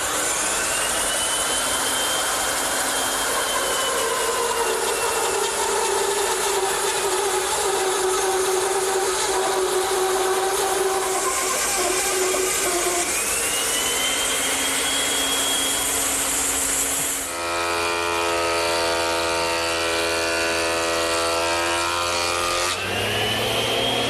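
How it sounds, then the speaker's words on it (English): A bandsaw fitted with a 1-inch blade re-saws a board against an auxiliary fence, giving a loud, sustained whining drone with a shifting cutting tone that changes pitch partway through as the blade works along the board, with no talk. "To re-saw it, I'm going to use the bandsaw."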